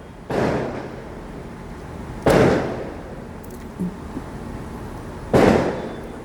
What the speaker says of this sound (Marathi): थोडं फटाक्यांचा आवाज येतोय